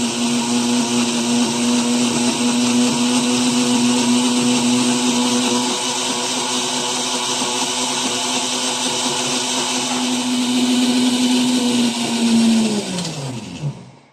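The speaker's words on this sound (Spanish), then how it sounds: "Ya terminé de licuar. Quedó una pastita." A blender runs steadily, whirring loud and close as it purees ají escabeche pepper paste with oil, then winds down and stops near the end.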